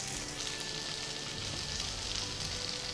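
Tofu fries in hot oil with a dense, continuous crackling sizzle, steady and close throughout with no voices over it.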